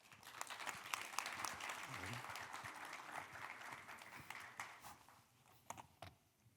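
An audience in Seoul applauds to welcome a keynote speaker at a conference opening, a sustained patter of clapping that thins out and fades toward the end.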